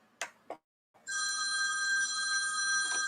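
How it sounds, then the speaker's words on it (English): A telephone rings in the background of a quiet room: two brief knocks, then a steady, continuous electronic ring that lasts about two seconds, with no talking. "That must be my phone ringing in the background."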